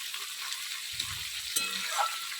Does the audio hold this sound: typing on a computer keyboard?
no